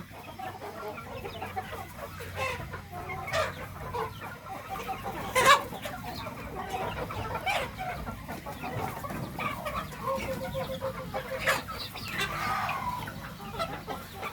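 Fighting roosters and hens on a farm cluck steadily with scattered sharper calls, moderately close against a low background hum, with no one speaking.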